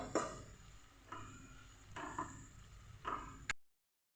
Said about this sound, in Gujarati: એકદમ ધીમા ગેસે હવે ડુંગળીને સરસ રીતે સાંતળી લેવાની છે.